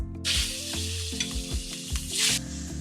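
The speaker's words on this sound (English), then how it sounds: "I'm still frying my noodles" Egg noodles and prawns fry in oil in a pan for chow mein, a loud, dense sizzle that swells in bursts as the food is tossed, over a steady low hum and with no talking.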